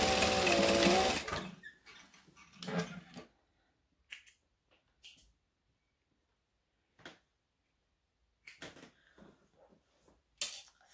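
A sewing machine runs a fast, loud burst of stitching across fabric, including a backstitch. Several short, quieter clicks and handling sounds follow, with long silent gaps between them.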